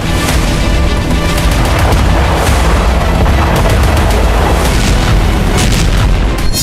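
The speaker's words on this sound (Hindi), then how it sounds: "1500 किलो वजनी ये बम जिस भी जगह पर गिर रहे हैं उस जगह को शमशान बना दे रहे हैं।" Russian ODAB-1500 bombs, weighing 1,500 kilograms, exploding in Ukraine: a loud, continuous roaring blast rumble with heavy low-end boom and crackling bursts throughout, with no voices.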